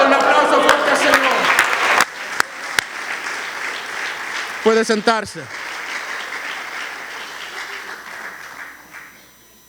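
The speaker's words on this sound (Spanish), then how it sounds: "Ahora un aplauso fuerte al Señor." Loud applause from a church congregation fills the space, overlapping a man's speech at the start, with a few sharp claps standing out before it thins into steady clapping and slowly fades.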